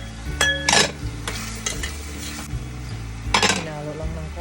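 Squash seasoned with salt being stirred in a pan of garden vegetables, with a few sharp utensil clinks against the pan and a quiet sizzle, close and without talk.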